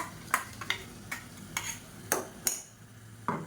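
Tomatoes blended with masala stirred in hot oil in a pan: a soft background sizzle broken by several sharp, separate scrapes and clinks of a spoon against the pan in an uneven rhythm, close up, with no voices.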